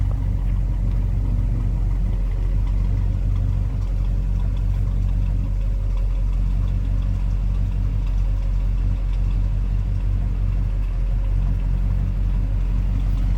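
A 1986 Chevy C10 pickup with stock manifolds and a brand-new dual exhaust idles steadily, a deep, even low rumble holding constant and close throughout with no talking.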